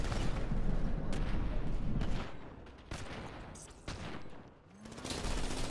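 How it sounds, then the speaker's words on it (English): Several sharp gunshots crack in a neighborhood during a drive-by, spaced roughly a second apart over a continuous noisy background, loud but not right up close. "Gunfire."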